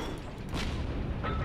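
A light tank's cannon in Heroes and Generals fires at a building, producing a couple of short booming blasts with mechanical rumble between them, fairly loud and close.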